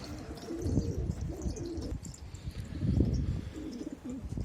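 A pigeon coos nearby in low, repeated throaty calls.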